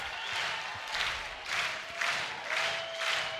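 A college baseball stadium crowd of over 5,000, on their feet in the ninth inning, applauds and cheers in steady swelling waves, a broad wash of clapping heard from a distance.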